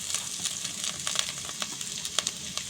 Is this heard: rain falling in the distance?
no